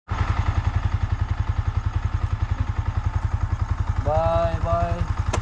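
A Yamaha MT15 motorcycle engine thrums with a steady, rapid pulsing beat while riding on a road trip from Delhi toward Rishikesh, close and loud, with a voice speaking briefly over it near the end.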